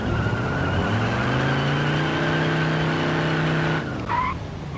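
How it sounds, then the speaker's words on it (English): An old car engine in a video game revs in a steady, loud drone with rising tone and tire noise, a short squeal near the end. "Listen to that old engine."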